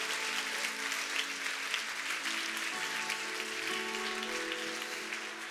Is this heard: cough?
no